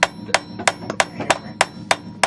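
Hammer taps on a car half shaft axle with the nut refitted on its end: sharp metallic strikes at a steady rhythm, about eight over two seconds, close and loud with no talking.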